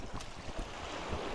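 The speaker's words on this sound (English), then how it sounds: "waking up to the sound of the waves just lapping gently" Waves lapping gently against the Lake Como shore, a soft wash of broadband water noise with faint splashes and wind buffeting the microphone, steady and low in level.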